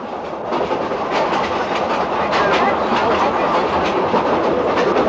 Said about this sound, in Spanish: un ferrocarril de trocha angosta desciende junto al Vilcanota hacia la selva